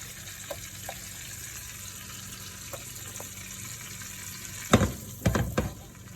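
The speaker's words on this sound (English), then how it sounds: "Hear that sizzle. Garlic. Now we're gonna add in our garlic." Oil sizzles steadily in a pan, then flares into louder crackling bursts as garlic drops in near the end.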